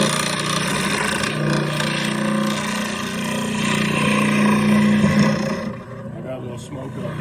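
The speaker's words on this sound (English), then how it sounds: "That's rubbing really hard." A wood turning tool rubs hard against a spinning workpiece on a lathe, a steady loud grinding drone with a low hum, easing off near the end.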